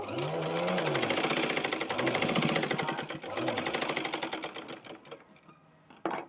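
A sewing machine runs continuously, stitching fabric with a rapid, even mechanical rattle, up close and loud, easing off near the end before a brief final clatter.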